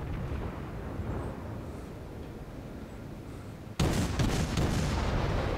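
Destroyer main guns on the Tier 7 USS Sims in World of Warships: a steady low rumbling battle roar, then a sudden loud blast at about 3.8 seconds followed by several sharp close shots and crackling impacts.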